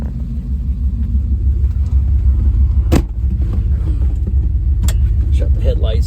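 A 1931 five-window Model A engine idles up close with a deep, steady low rumble, broken by a couple of sharp clicks, with faint voices in the background.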